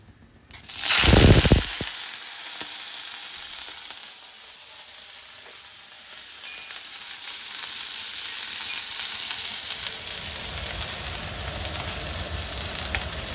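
Fish fat seasoned with salt and turmeric dropped into hot mustard-style oil with nigella seeds, a loud burst of sizzling at first that settles into a steady crackling fry, alone and close.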